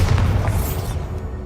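A Bombarda spell blast in the video game Hogwarts Legacy, a deep booming burst that swells briefly and then rolls off into a low rumbling tail.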